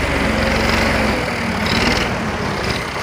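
An old 1984 Massey Ferguson 240 tractor runs with a steady low diesel rumble, loud and close, holding a constant drone for the whole stretch as it shifts soil back and forth.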